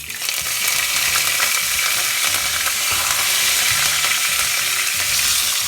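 Curry leaves and asafoetida (hing) sizzle loudly and continuously in hot oil while tempering for restaurant-style sambhar, a dense, steady crackling hiss that holds close and even throughout.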